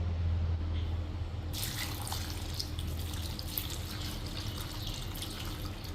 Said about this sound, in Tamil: ஒரு சர்க்கரை கட்டி போட்டு காய்ச்சி வச்சதான பசும்பாலையும் இதுக்கு வந்து மிக்ஸ் பண்ண போகிறேன்